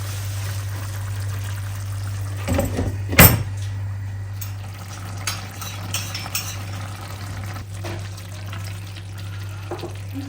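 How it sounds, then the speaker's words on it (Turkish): Hot water being poured into a pot of cooking pea dish, a short splashing pour with a few light kitchen clinks over a steady low stove hum. "bir çay bardağı sıcak su koyacağım ve pişirmeye devam ediyoruz"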